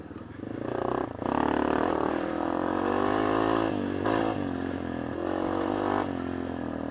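A Yamaha XT250 dual-sport motorcycle is ridden, its single-cylinder engine droning steadily with rising and falling revs and gear changes, heard close with wind and clatter, and no talking.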